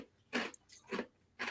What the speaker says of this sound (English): He's chewing nice